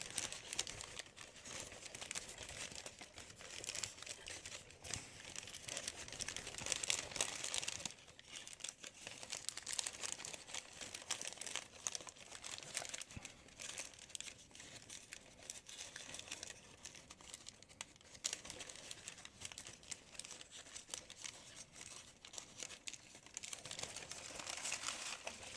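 Sheet of paper being folded into an origami model, soft close crinkles, creases and rustling handling noises that come in irregular bursts, quiet throughout.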